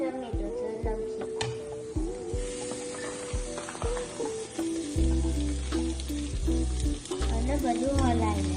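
Potato, squash, carrot and tomato fry in a pan while being stirred, for a vegetable filling. A constant close sizzle with occasional stirring scrapes sits under music that carries through the whole stretch.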